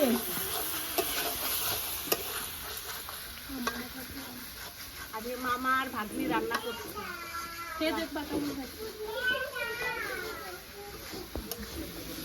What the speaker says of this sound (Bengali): মাংস তো কষাচ্ছে মামা